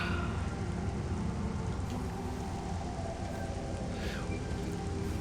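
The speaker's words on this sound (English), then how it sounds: "This music, the rain, everything. Raindrops on my visor." Rain in the Metroid Prime Remastered video game, raindrops pattering on the visor in a dense, steady hiss that fills the whole stretch, loud and close, with a few brighter drop splashes and no talk.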